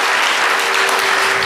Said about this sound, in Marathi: एकदा आपण जोरदार टाळ्या वाजवून अण्णासाहेबांना विनम्र अभिवादन करूयात